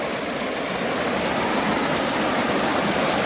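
Floodwater rushing along a village road in Mahuva taluka after heavy rain, a loud, steady broadband roar of flowing water that runs continuously and close by without pause, with no voices over it.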